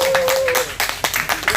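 A crowd at an outdoor civic forum in a square claps in a brief burst of uneven, overlapping hand claps, with a voice speaking over the start.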